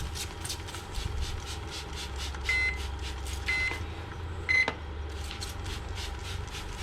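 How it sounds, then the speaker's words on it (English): A smoker's low-temperature alarm sounds in short electronic bursts, three spaced beeps over a steady mechanical hum with faint rhythmic ticking in the background, while ribs smoke over pecan wood. "That was our low temperature beeping at us."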